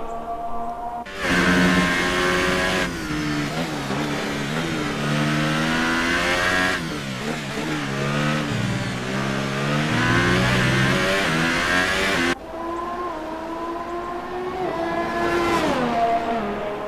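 A 2018 Renault RS18 Formula One car screams past at a historic French Grand Prix, its high-pitched engine rising and falling through gear shifts, loud and close, then fading to a more distant whine.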